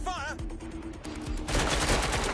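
Gunfire in Watch Dogs: Legion: rapid bursts of shots crack through a dense, noisy battle scene, growing louder in the second half, with talking at the start.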